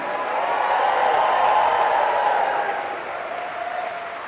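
A church congregation applauds during a homily, a broad swell of clapping and crowd noise that builds, then gradually thins toward the end.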